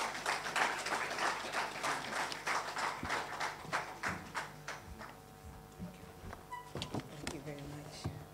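An audience at a constitution day lecture in Accra, Ghana applauds to welcome a former Attorney General; the clapping is fairly distant and soft, thinning out toward the end as voices and room noise take over.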